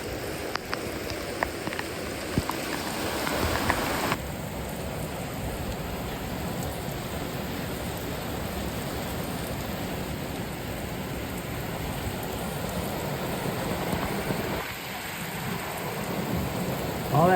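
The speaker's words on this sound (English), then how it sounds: "they're all standing there in the rain" Heavy rain pours down outside a farm barn as a steady, loud hiss, with deep rumbles of thunder rolling underneath. The downpour continues unbroken and no one speaks.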